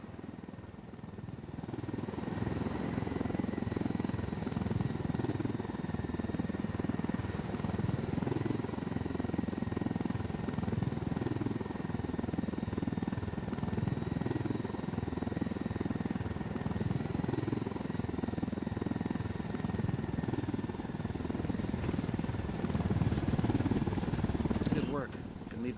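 Helicopter in the video game Ghost Recon Wildlands produces a steady, loud rotor and engine drone that continues throughout, with faint voices underneath.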